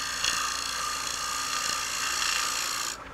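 A lathe gouge cutting the wall of a spinning wooden bowl, a steady loud rasping shear that runs evenly before cutting off abruptly at the end.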